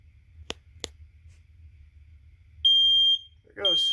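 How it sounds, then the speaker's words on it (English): Built-in sounder of a smoke detector on a fire alarm system under test gives a loud, steady high electronic tone of about half a second, then sounds again; two sharp clicks come earlier. "This has an internal sounder, which is not controlled from the NACS. It just has it built in."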